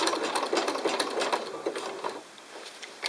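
Sewing machine stitching elastic held taut, a rapid mechanical chattering of needle strokes up close that slows and fades toward the end.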